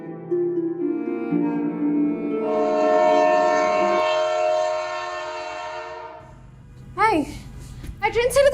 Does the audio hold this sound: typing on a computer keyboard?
no